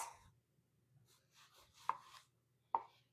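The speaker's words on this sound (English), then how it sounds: "So we're just going to cut through nice kind of thin slices" A sharp kitchen knife cuts a tomato into thin slices: a soft slicing stroke, then two crisp taps of the blade hitting the cutting board, close and clear in a quiet room.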